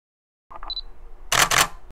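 A single-lens reflex camera fires its shutter in a sharp, close mechanical click-clack burst, preceded by a brief high focus-confirm beep, with no talking.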